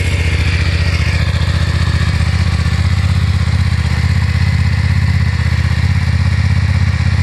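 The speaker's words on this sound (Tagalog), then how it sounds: "Ito yung ignition niya. Stock pipe F900 XR exclusive." A stock-exhaust 2021 BMW F900 XR Exclusive, 895cc parallel-twin sport touring motorcycle, idles steadily after a cold start, with a loud, continuous low throb and an even rumble close by, heard alone.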